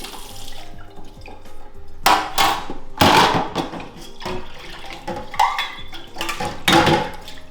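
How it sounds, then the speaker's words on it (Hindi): Dishes are rinsed under running water in a kitchen sink, with the tap splashing and ceramic and cutlery clinking in several loud, close bursts. "थोड़ा रिंस कर लेते हम बर्तन मन ला ऐसे।"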